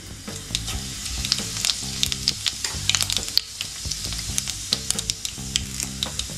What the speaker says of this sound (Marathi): आता पहिल्यांदा आपण मोहरी टाकून घेऊया। जिरे